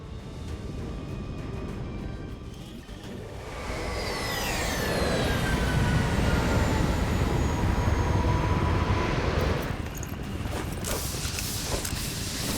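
A rumbling, creaking Advent train in the XCOM 2 video game, with a steady mechanical roar that swells louder partway through, thin metallic squeals sweeping across it and a slight drop near the end.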